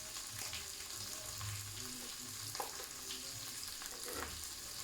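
Garlic and onions fry in a pan for a chicken jalfrezi, a quiet, continuous sizzle with occasional soft scrapes and stirring sounds, no voices.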